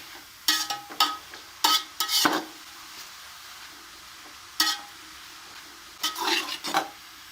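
Masala with dry coriander frying in a few spoons of oil for mooli paratha filling, a faint low sizzle broken by several sharp scrapes and clinks of a spoon stirring in the pan.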